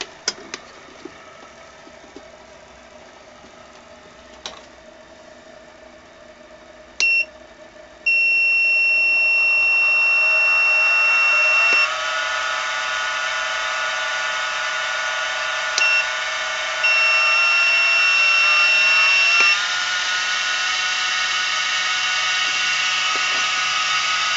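An 1100W DC CNC spindle motor running off the mill, spinning up with a rising whine that holds a high steady tone, with clicks as it starts and stops and speed shifts partway.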